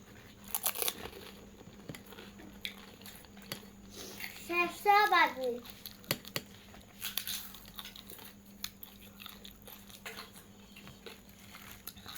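Crunchy fuchka being bitten and chewed up close, with a sharp crackling crunch followed by scattered smaller crunches and chewing sounds over a quiet room, with a voice talking briefly in between.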